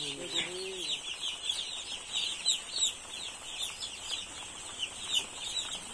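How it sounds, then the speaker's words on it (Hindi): Dense high-pitched peeping from a crowd of day-old chicks on a poultry farm, continuous and overlapping, with a voice talking briefly near the start. "ये पोल्ट्री फार्म है। ये फर्स्ट दिन का बच्चा है, 1 दिन का बच्चा है जो आप देख रहे हैं।"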